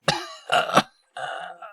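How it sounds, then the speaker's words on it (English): A woman coughs in the dark nautical game Sunless Sea: one sharp hack, then a quick double cough, and after a short silence a longer hoarse, raspy exhale, close and clear with no talk. "She coughs, rackingly."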